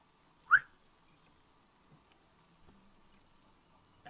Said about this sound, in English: You do hear a sharp whistle.